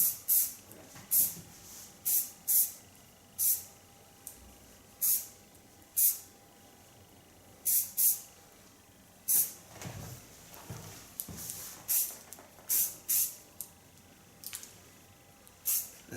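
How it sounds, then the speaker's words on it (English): Short hissing bursts of aerosol hairspray sprayed onto hair, repeated irregularly in quick puffs at close range against a quiet background. "Now take a little bit hairspray to freeze the hair."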